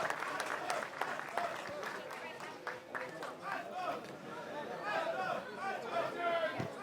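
Applause rises from a crowd at the Cannes 2022 photocall for Elvis, a busy patter of clapping mixed with chatter and voices, held at a moderate distance.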